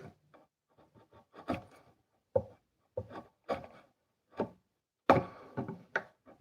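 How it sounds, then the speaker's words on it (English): A chisel cuts into wood in quick, close, dry scrapes and taps: irregular bursts of short strokes with brief pauses between, crisp and near, no talking. "with some real quick chisel work"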